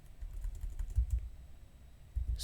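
A run of soft keystrokes on a computer keyboard, irregular and close, with a couple of heavier clustered taps.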